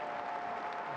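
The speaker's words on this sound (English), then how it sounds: "Huge cheer." Cricket crowd applauding and cheering at a Windies versus England one-day international in 2019, a steady distant wash of clapping and crowd noise filling the whole moment.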